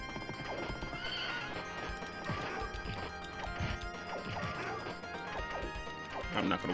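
In a video game, a horse whinnies several times in a busy mix of crashes, thwacks and hoof clatter, with a voice talking over the fight.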